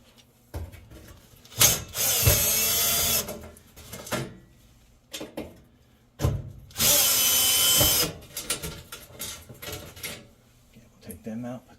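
Two bursts of a power drill backing screws out of a Samsung oven burner tray, each a loud whirring run of about a second, separated by clicks and handling noises of the metal parts.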